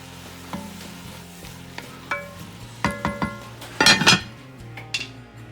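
Red cabbage stirred and simmering in a pot for braising: spoon clinks and scrapes against the pot come in a loose rhythm over a soft, steady bubbling sizzle, close up, with a louder burst of stirring midway and no talking.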